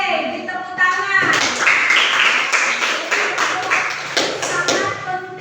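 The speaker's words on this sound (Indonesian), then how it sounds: "Oke, beri tepuk tangan." An audience at a church or campus gathering bursts into clapping, a dense run of sharp, close hand claps that keeps going steadily for several seconds.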